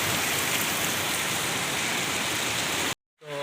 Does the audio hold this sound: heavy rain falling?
yes